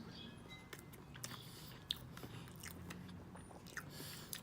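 Soft, doughy cornbread being chewed close up, a quiet run of small moist bites and crunches with a few sharper clicks, no talking.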